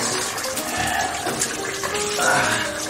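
Running water filling a bathtub, a steady close splashing rush with shifting gurgles and a brief swell near the end, heard alone without talk.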